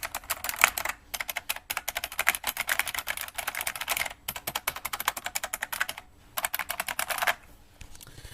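Typing on a Unicomp Ultra Classic 103-key buckling spring keyboard: dense, loud, clacky keystrokes in rapid bursts, broken by two short pauses, with no voices.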